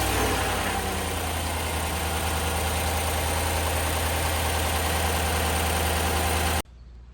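A GM 5.3 V8 idles after an exhaust manifold gasket repair, a steady loud rumble close to the engine bay, then cutting off abruptly near the end, leaving quiet room noise.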